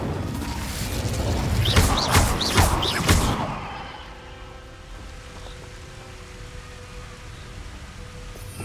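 An Incendio fire spell in Hogwarts Legacy bursts with a loud crackling whoosh and several sharp flaring cracks over about three seconds, then fades to a low, quiet game ambience.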